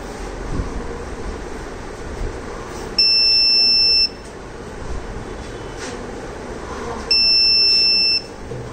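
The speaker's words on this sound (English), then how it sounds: "above the 24, then the system will provide us the audible alerts" Two steady electronic buzzer tones from a Raspberry Pi smart mirror health monitor alert, each about a second long and loud, sounding alone over a quiet room background.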